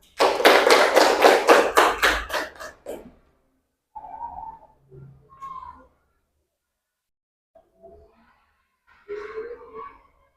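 A short round of classroom applause for a classmate during a micro-teaching lesson, about a dozen quick, evenly spaced claps that fade out after three seconds, followed by sparse quiet speech and small noises.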